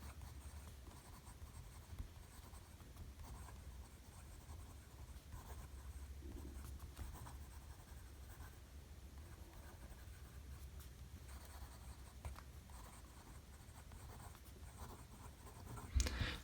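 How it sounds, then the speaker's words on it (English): An Esterbrook Estie fountain pen with a smooth nib scratches faintly across paper in a quiet room. The soft, continuous writing sound sits above a low background hum and ends with a small bump near the close. "let's just do a little bit of writing."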